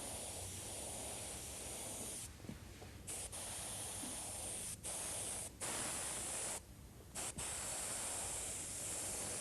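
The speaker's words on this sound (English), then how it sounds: "The airbrush I'm using to do this is an Iwata HPC" An Iwata HPC airbrush sprays automotive paint onto a custom helmet, giving a steady close hiss that cuts out briefly several times as the trigger is released.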